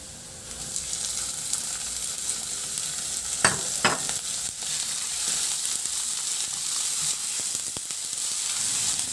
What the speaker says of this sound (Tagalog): Magpainit na rin ako ng mantika sa kawali at igisa ko yung bawang